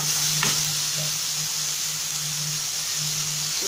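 Grated tomato and onion sizzle steadily in a pan for an Egyptian omelette, a continuous frying hiss with a brief stir or scrape near the start, close and even throughout with no talking.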